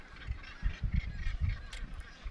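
Gannets at a seabird cliff colony give harsh, grating honks in a rapid, overlapping chorus, moderately close and alone without speech.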